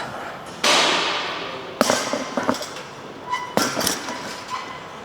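Metal gym weights clank and clink during a workout set, with a few sharp hits and rattles spaced irregularly against a quiet room background.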